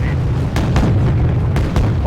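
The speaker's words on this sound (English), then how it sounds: "Wow, the guns of our ships just unloading." Heavy naval guns on warships in the Wargame: Red Dragon strategy game fire in a loud, rapid volley, several sharp booms landing over a dense rumbling battle bed.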